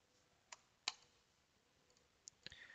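A computer mouse clicks a few times in a quiet room: sparse, faint, sharp taps spaced irregularly, with no voices.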